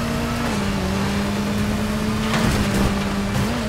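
A motorbike engine in the video game Gotham Knights hums steadily at a constant pitch, with small wavering shifts as it accelerates, loud and alone without voices.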